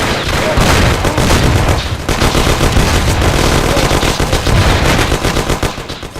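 Loud, sustained automatic gunfire erupts in a mob shootout in the game Mafia: The City of Lost Heaven. Rapid machine-gun bursts hammer on almost without pause, layered with heavier shots and a brief break near the middle.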